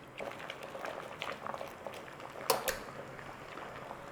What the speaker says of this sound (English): So it's a case of just blanch it in the water, which is going to soften it up.